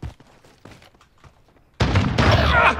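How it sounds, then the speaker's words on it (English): Shotgun blasts in the Call of Duty Modern Warfare gunfight mode, a sudden loud, dense burst of booming fire that erupts after a quieter stretch and holds to the end, with a player talking earlier. "it's a shotgun"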